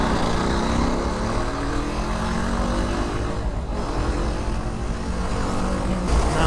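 A car drives along a road on a trip to Akkalpada dam near Dhule. Steady engine and road noise with wind rumble runs close and fairly loud throughout, and no one talks.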